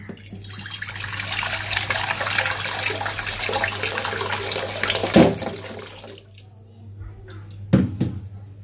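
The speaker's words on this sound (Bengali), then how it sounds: "এখন আমি একটা কড়াইতে পানি দিয়ে দেব আলু আর ডিমগুলো সিদ্ধ হতে।" Water gushes steadily from a tap into a wok for about six seconds, then stops, followed by a couple of brief clanks.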